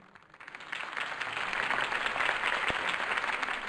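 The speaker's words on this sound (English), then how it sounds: "If only Mr. Wayne, my campaign's largest backer, could have heard that applause" Applause for Harvey Dent's campaign speech in the Batman Telltale game swells from quiet into steady, dense clapping from a crowd, moderately loud and continuous, with faint voices mixed underneath.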